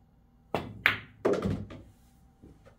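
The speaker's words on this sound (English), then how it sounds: "Hit it with a little bit of force so the cue ball is able to come across the table to this rail and then back that way." A pool cue strikes the cue ball on an 8-ball table, followed by a few hollow knocks as balls roll and bounce off the rails, close and clear with no talk.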